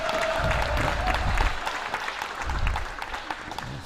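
At a pro tour pickleball match, a crowd breaks into applause and cheering after a rally, a loud, rippling burst that rises and falls over a few seconds.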